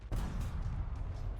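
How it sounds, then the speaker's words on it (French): A crate on the back of a truck blows up in War Thunder, a short, heavy, rumbling boom with a sharp onset that then sustains as broadband roar, with no talking. "Ah ouais, t'as raison, ça a explosé."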